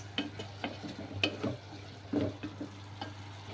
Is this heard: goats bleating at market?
no